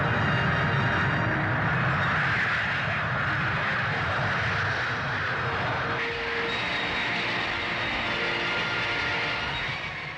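RAF twin-seat jet training planes, 300-mile-per-hour aerobatic trainers, take off together for formation practice, a loud, steady engine roar that fills the whole stretch without any voices.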